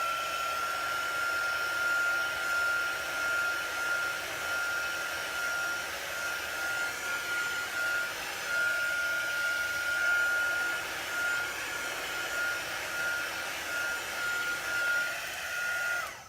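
A hair dryer blows steadily on a transfer laid on a board, a constant close whooshing roar with a thin whine running through it, unbroken for the whole stretch and without talk.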